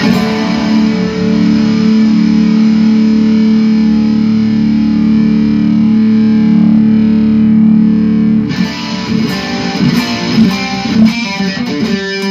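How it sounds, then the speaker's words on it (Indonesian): Electric guitar played through a budget distortion booster pedal, a loud sustained overdriven chord ringing for several seconds before choppier strummed notes take over, close and dense. "Ini booster, kita langsung coba distorsi."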